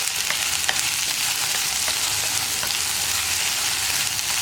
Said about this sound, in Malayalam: വെണ്ടയ്ക്ക ഒരു 2-3 മിനിറ്റ് ഇതുപോലെ ഇളക്കിക്കൊണ്ടിരിക്കാം നമുക്ക്